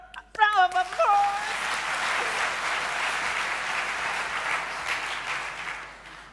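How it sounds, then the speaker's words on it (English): Conference audience at a EuroPython lightning-talk session clapping to welcome the next speaker, a steady, moderately distant wash of applause after a brief electronic tone at the start, slowly tapering off. "applause"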